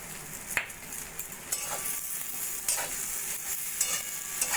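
Potatoes and brinjal fry together in a pan, giving a quiet continuous sizzle with intermittent spatula scrapes and light clinks as the pieces are stirred, with no talking.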